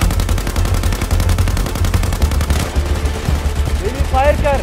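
Rapid automatic gunfire rattles in dense, loud bursts during a real-life PUBG style shooting game in Pakistan, the shots shifting to a sparser volley midway while excited voices shout over the final second.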